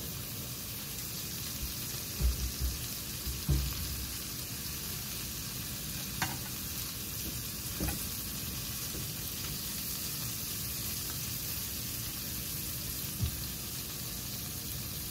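Shrimp frying in a pan, an even close sizzle running throughout, broken by scattered clicks and taps of utensils, with no voices.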